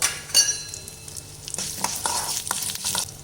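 Urad dal, mustard seeds and dried red chillies fry over low flame in a small pan, a steady close sizzle broken by spattering pops and a few scraping stirs, no talking.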